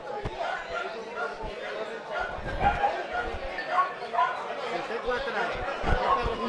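Podenco rabbit-hunting dogs at a hunting-dog fair bark and yip repeatedly, at mid distance, amid steady crowd chatter and nearby voices talking.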